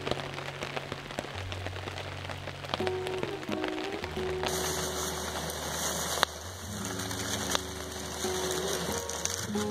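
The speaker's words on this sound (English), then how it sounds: "Nothing like a good cold rain." Steady cold rain patters across a surface outdoors by a bridge, a continuous broadband hiss with a low hum and a faint tone running beneath it.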